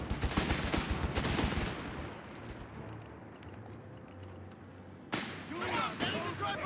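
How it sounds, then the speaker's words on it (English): Bursts of 1919 Browning .30 cal heavy machine gun fire in a Company of Heroes 3 battle, dense rapid firing at the start, fading under a low rumble, then a fresh loud burst near the end, with talk over it. "I think it's the 30 cal because this is a 1919 Browning heavy machine gun"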